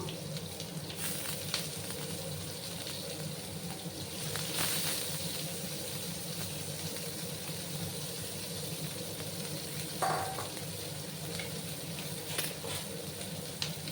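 Chopped onions hit a hot pan and fry, giving a steady, fairly quiet sizzle with a few brief louder crackles and stirring scrapes along the way. The sizzle plays alone, with no talk.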